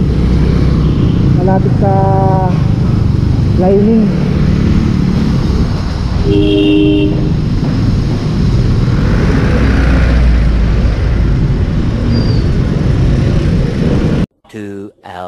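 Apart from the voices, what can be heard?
noisy engine of a Suzuki Choinori scooter running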